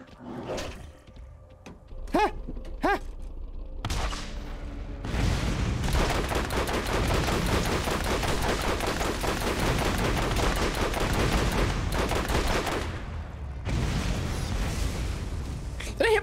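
Rapid gunfire and rocket blasts from the video game Borderlands, with dense, sustained bursts of shots and explosions that run almost nonstop. Brief pauses break up the loud barrage.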